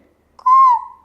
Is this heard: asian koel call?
yes